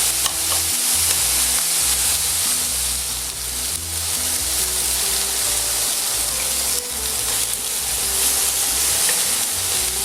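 Quail and pineapple pan-fry in a skillet over moderate heat. A dense, continuous sizzle holds at a fairly loud level throughout, with a low steady hum underneath.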